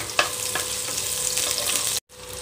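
Mustard seeds and onion fry in hot oil for a yellow pumpkin dish, giving a steady close sizzle with a few sharp pops. The sound cuts out abruptly near the end, then resumes.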